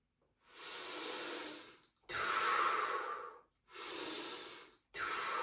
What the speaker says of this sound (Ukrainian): Дихання бодіфлекс. Згадуємо. Видих. Різкий вдих.